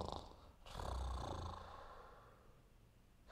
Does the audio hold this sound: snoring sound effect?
yes